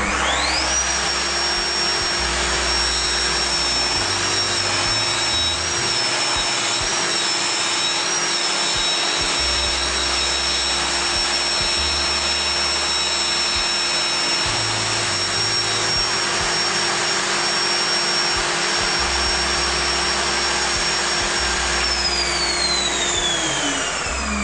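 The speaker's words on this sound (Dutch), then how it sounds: "zetten de cirkelzaag aan" Circular miter saw running and cutting through material at a miter angle, a loud, sustained high whine and roar that holds steady for most of the stretch before winding down at the end.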